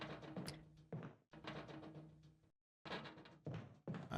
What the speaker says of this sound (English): They're banging on the glass.